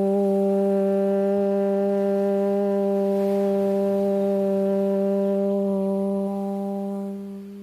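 A group of voices chants a long, sustained Om mantra during a yoga class, a steady droning hum held for several seconds that slowly fades near the end.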